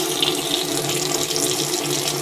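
Water rushing out of a water heater being flushed of residue, a loud, steady splashing flow close by, running without pause.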